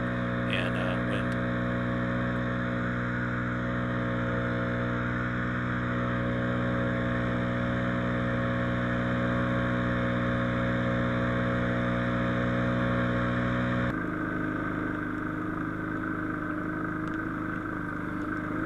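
A leaf blower engine idles steadily outdoors during wildland firefighting, a constant droning hum with a faint shift in tone late in the clip, kicking up ash and embers.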